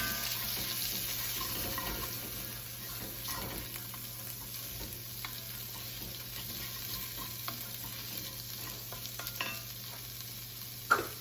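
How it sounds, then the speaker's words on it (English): Diced tomatoes cook in a pan for vegan jambalaya, a soft continuous sizzle with faint stirring scrapes under a low steady hum, ending in one louder knock. "I'm gonna add the diced tomatoes now and cook it just for a minute"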